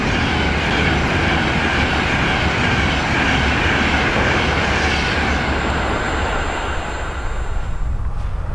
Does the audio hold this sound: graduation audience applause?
no